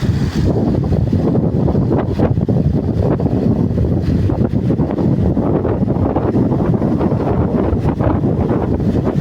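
A boat moving across the open sea at sunset, heavy wind buffeting the microphone in a constant roar, with engine and water noise mixed underneath.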